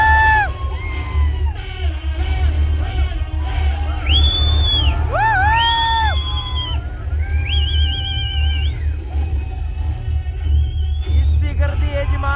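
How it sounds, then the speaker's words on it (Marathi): A large, excited crowd gathered outside a screening of the film Chhaava, shouting, whooping and cheering in loud overlapping bursts over a constant rumble of massed voices and nearby traffic. "गर्दी आहे जी महाराजांच्या पिक्चरसाठी झालेली आहे"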